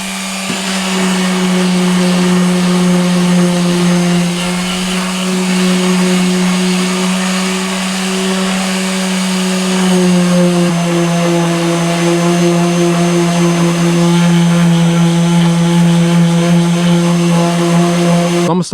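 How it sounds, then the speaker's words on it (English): Power sander working on a Maxton Design rear valance for a Ford Focus ST, a loud continuous whine with a strong steady tone that dips briefly midway and runs throughout without speech. "let's try sander."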